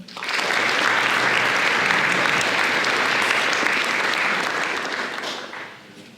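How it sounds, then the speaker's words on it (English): A large crowd applauds steadily and loudly for several seconds at a school Cum Laude induction ceremony, the clapping dense and sustained before tapering off at the end. "please join me in one last round of applause for these students"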